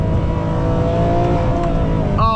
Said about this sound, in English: Oh my God, one of the best sounding Ferraris ever. That V12 is just so raw and angry.